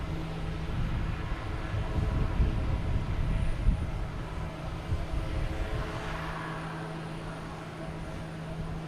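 A JetBlue Airbus A320 jet airliner arriving at Boston Logan Airport gives a steady, moderately distant engine roar that builds slightly and then eases off, heard alone.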